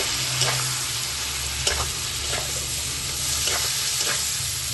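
Spices with a little Kashmiri chilli sautéing in a pan, giving a constant sizzling hiss with a low hum beneath and a few soft, widely spaced scrapes of stirring.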